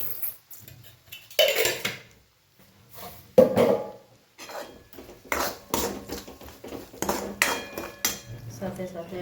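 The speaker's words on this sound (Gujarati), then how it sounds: "આપણી પાસે ગુરુ ખાંડ નથી એટલે મોટી ખાંડ નાખીશું." Spoonfuls of coarse sugar go into a farali dish and get stirred in with a metal spoon, giving sharp clinks and scrapes against the pot in several separate bursts with short pauses between them, close and fairly loud.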